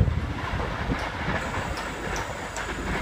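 A Sydney Trains V-set double-deck train passes a station platform at Concord West, a loud, close, continuous rumble with rattling wheel noise and faint high squeals, heard alone without voices.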